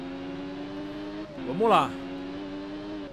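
A Triumph Daytona 675 three-cylinder motorcycle in a racing video game, holding a steady engine drone before a brief surge as it re-accelerates, then settling back, with someone talking over it.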